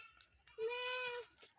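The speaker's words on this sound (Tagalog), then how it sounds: "Hindi sheep yan. Yan ay kambing." A single goat gives one faint, clear bleat that lasts under a second, heard in a quiet outdoor setting with no talk.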